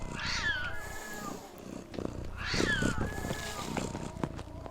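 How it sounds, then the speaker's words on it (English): A house cat meows twice in long, drawn-out calls with a rising and falling pitch, fairly close, over a background of looping electronic music samples and low room noise. "Matt, is your cat freaking out, Matt?"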